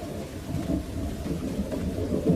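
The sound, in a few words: rain falling at night in a cartoon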